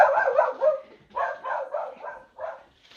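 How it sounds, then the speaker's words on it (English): A puppy yips and barks in several short bursts close by, quick high barks separated by brief pauses, with no talking. "puppy, puppy break, puppy break"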